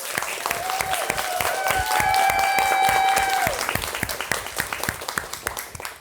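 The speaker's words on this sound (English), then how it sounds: "Let's give a round of applause to this year's runner-up," Audience applause for the runner-up team, Ivy Creek Elementary, at the 2026 Readers Rally Elementary School Division championship, a steady, dense clapping from a large crowd filling the whole stretch, with a brief sustained tone sounding midway and the clapping thinning toward the end.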